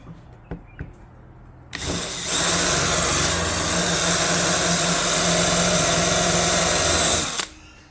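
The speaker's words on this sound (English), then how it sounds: "Give a bit more drilling here at the back." A power drill bores into a BMW E90 car door during a door handle replacement, running steadily for about six seconds with a loud whine and grinding before it stops abruptly. A few faint knocks come before it starts.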